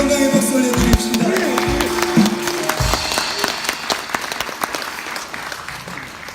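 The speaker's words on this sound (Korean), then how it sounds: "주님께 영광의 박수 올려드립시다." A church congregation at a Sunday afternoon worship service applauds, a steady wash of many hands clapping that fades gradually, with scattered sharp claps and some faint sung or spoken tones early on.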